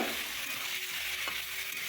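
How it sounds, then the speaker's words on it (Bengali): Chicken frying in mustard oil in a kadai, giving a steady, soft sizzle with light stirring for two seconds and no voices. "একটি কড়াইয়ের মধ্যে কিছুটা সরিষার তেল নিয়ে নিলাম। নিয়ে চিকেনগুলো আমি ভেজে নেব।"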